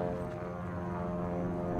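Steady droning hum of a propeller airplane flying over the Wright Brothers monument, a continuous engine tone with harmonic buzz and wind rumble, fairly loud and constant with no talk.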